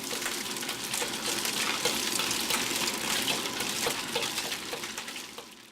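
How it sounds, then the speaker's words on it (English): Softened scallops fry in hot oil while being stirred, giving a dense, continuous rushing sizzle up close that holds level for several seconds before easing slightly at the end, with no voices. "place a handful of softened scallops and allow them to cook for about 2 minutes, stirring well all the time."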